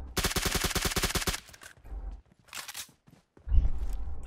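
Automatic gunfire in the PUBG Mobile battle game, a rapid burst of about a dozen sharp shots, followed by scattered quieter shots and thuds, loud and close with no talk.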